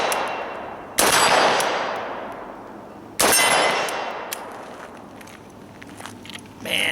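An AK-74 rifle in 5.45x39 fires two loud, sharp shots about two seconds apart at steel plate targets roughly 50 yards downrange, each blast followed by a long ringing decay and faint metallic pings, with no talking.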